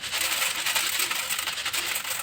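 Wheat grain pours steadily out of a torn bag, a dense continuous hiss of small kernels pattering and rustling close by, with no voices.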